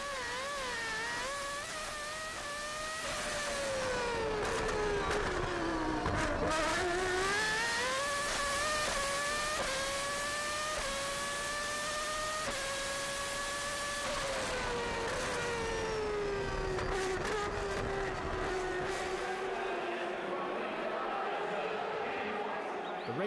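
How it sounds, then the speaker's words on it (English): Formula One Williams cars on the Monaco Grand Prix starting grid, engines revving in rising and falling whines that overlap throughout, loud and close, with a commentator speaking over them. "We're looking back from Damon Hill's Formula One Williams on the starting grid before the 53rd Monaco Grand Prix."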